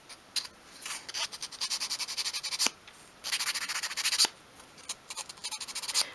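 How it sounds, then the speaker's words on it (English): Rhythmic scratchy strokes of sandpaper rubbing across a small wooden top piece to strip away wood dye, close and steady in quick repeated bursts with a few short pauses and no talking. "I just want to sand to take away some of the wood dye"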